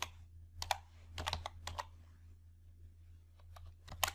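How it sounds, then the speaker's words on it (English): Typing on a computer keyboard, sparse crisp key clicks in small clusters with pauses between them, close and fairly quiet over a low steady hum. "Now type today function within date function."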